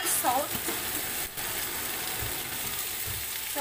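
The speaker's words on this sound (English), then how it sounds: "saute the tomato until it gets soft or smashy" Tomato sautéing in a pan for Filipino beef stew (nilagang baka), a steady broadband sizzle running throughout with a few soft stirring knocks, close and moderately loud.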